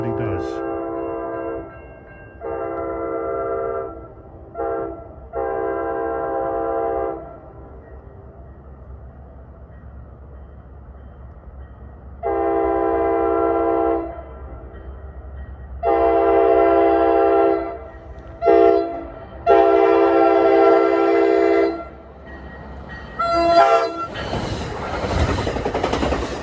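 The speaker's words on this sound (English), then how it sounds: "Usually a friendly engineer, blows a few extra toots." An NJ Transit train horn sounds a series of short and longer toots from a passing train, the blasts separated by quiet gaps, followed by a brief rush of train noise at the end.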